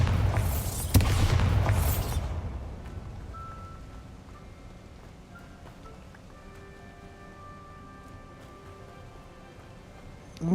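A Bombarda blasting spell goes off in Hogwarts Legacy, a loud broadband explosion with a rumbling tail over the first two seconds, after which it fades into quiet game ambience with faint tonal chimes.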